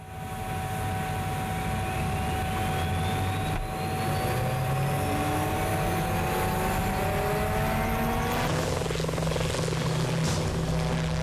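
Royal Navy Lynx helicopters drone steadily throughout, rotor and engine tones holding, with a rising whine and a brief surge of louder engine noise near the end.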